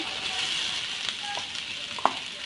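Onions going into frying chicken makhan karahi, a light steady sizzle with a few soft clinks and one sharp scrape near the end, no one talking.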